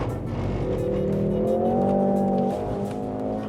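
Mercedes-AMG GLC 43 SUV with four-wheel steering cornering hard on a test track, its engine droning steadily with a rising and falling tone as it holds the turn, loud and continuous with no talk.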